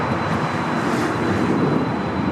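Jet aircraft at LAX airport, a steady, loud broadband roar of engines that holds evenly from start to finish with no talk over it.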